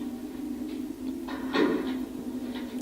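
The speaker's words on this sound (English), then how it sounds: "Door's closing on there." A door closes in the Wii U horror game Project Zero: Maiden of Blackwater, a brief muffled knock about halfway through over a steady low ambient hum.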